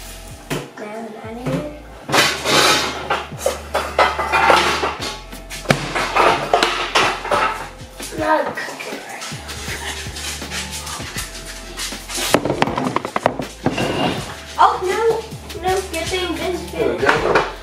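Pots and pans clatter and clank as someone rummages through a kitchen cupboard looking for a griddle, with repeated metallic knocks and scrapes mixed in with voices talking throughout.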